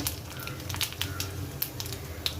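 Chana dal, urad dal, mustard seeds and a small red chilli frying in hot oil in a pan for rasam tempering: a steady close sizzle peppered with sharp little crackles and pops.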